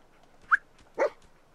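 A companion dog in Fallout 4 VR barks twice, a short sharp yip followed by a fuller bark, close and clear over a quiet game background.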